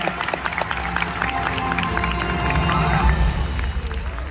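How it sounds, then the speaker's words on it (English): An audience applauds at a Sea World dolphin show, steady clapping and crowd noise from many people, fairly loud and continuous throughout. "Everybody, a big round of applause for Leanne."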